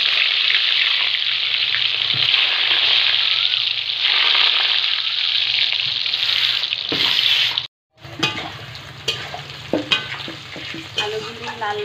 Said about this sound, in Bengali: ওই তেলে আমি আলুগুলি দিয়ে ভেজে নেব।